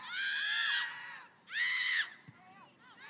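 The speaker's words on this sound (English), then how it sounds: "that was actually the Bobcats screaming at the defensive line to push up to try to create another offsides" During a women's college soccer match, players on the bench or field shout loudly at the defensive line to push up, in two long calls with a quieter call between them and faint background noise.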